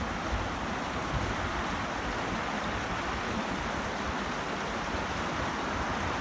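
A steady, broad roar of a waterfall on the River Blackwater fills the scene continuously, loud and unbroken with no voices.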